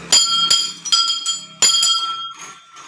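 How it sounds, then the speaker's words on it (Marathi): A metal bell at a Hanuman temple is struck several times in an uneven rhythm. Each loud, ringing clang decays slowly, and the strikes sound close by. "घंटा आहे बघा"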